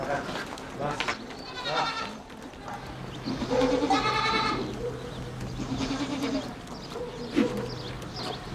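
A herd of Rove goats bleats repeatedly in varied, overlapping calls, some close and loud, others farther off, under steady outdoor background and occasional talking.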